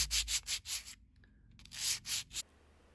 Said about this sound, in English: use relatively coarse sandpaper to sand the back